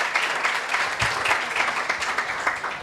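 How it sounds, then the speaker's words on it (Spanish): An audience at a 2018 Vegfest talk on vegan nutrition for babies and children gives a strong, continuous round of applause, dense clapping filling the room throughout. "Un fuertísimo aplauso"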